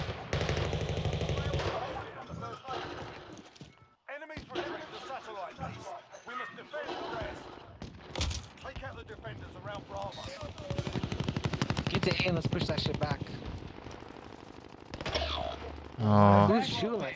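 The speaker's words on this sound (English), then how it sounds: "I can hear like mad shots going off" Rapid automatic gunfire from a Call of Duty Warzone match rattles in loud bursts almost throughout, heavily layered with game noise and overlapping voices talking excitedly.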